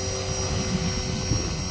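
Align T-Rex 450L RC helicopter hovering at fairly low rotor speed in cold weather, a steady, loud, close buzzing whine with a faint pulsing beat, continuous throughout.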